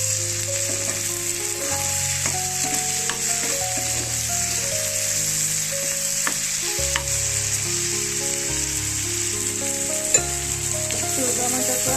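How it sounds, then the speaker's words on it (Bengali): Tomatoes with salt fry and crackle steadily in a pan, a continuous dense sizzle with intermittent stirring scrapes and soft clinks throughout. "তো টমেটো দিয়ে আমি একটু নাড়াচাড়া করবো, আর দিয়ে নিচ্ছি একটু লবণ"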